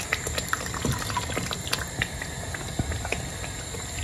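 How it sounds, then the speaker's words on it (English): Beef stock is poured into a pot of beetroot stew, giving a close, continuous liquid splash and trickle with small scattered clicks and drips, no voices. "Now go ahead and add my beef stock"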